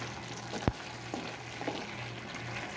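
Ampalaya and chicken breast with oyster sauce stirred in a hot pan, a steady close sizzle with one sharp clack of the utensil early on and soft scraping strokes after.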